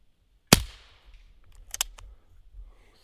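A single sharp, faint pop from a Daisy Red Ryder BB pistol fires at a paper target, followed by quieter clicks and a soft tap, with no talking.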